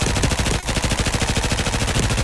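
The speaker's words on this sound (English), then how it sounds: "Let's just go straight into gunfire." Rapid automatic gunfire from the video game Dying Light The Beast, a loud, dense burst of closely spaced shots running steadily for the whole stretch with only a brief break near the start.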